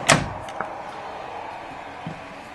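Cabinet doors in a 2012 Heartland Cyclone 3800HD toy hauler, fitted with spring-loaded hidden hinges, snap shut with one sharp close knock followed by a lighter click and a faint later tap.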